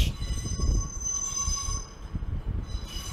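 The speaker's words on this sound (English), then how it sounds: "There's a class 150 arriving in at God knows platform 1" A Class 150 diesel train pulls into a platform at Manchester Piccadilly station, with a steady low rumble, a squealing tone from the wheels and high whining harmonics, heard close and continuous throughout.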